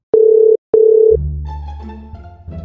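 A phone line emits two loud, steady electronic tone bursts of equal length, separated by a short gap, then gives way to a low droning background with faint tones.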